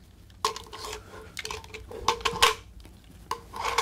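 Plastic clicks and small clattering knocks as a Kamen Rider Fourze Switch toy is handled and shifted into switch mode, irregular and close, with several sharp taps in quick bursts.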